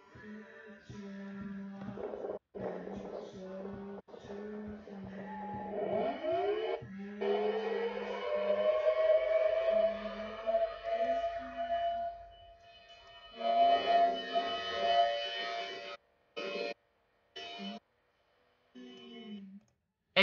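A Lego custom Thunderbolt 1000T siren winds up in a rising wail, holds a steady tone, then sputters and cuts in and out as it winds down, fairly faint over a buzzy background.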